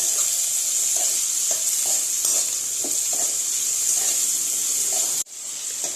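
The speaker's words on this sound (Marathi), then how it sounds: "हे चांगलं परतून घेऊया एक दोन मिनटं तरी लागते परतून घ्यायला व्यवस्थित" Tomatoes sauté in a hot pan with a bright continuous sizzle, broken by regular soft scrapes of stirring, before the sound cuts off abruptly near the end.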